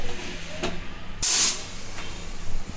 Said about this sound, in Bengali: ততক্ষণ ওখানে প্রেসার কুকারে সেদ্ধ হচ্ছে